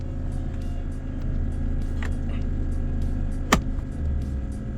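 A Nissan Armada truck idles with a low, steady engine rumble, then a single sharp clunk marks it shifting into reverse before it rolls back, with no voices.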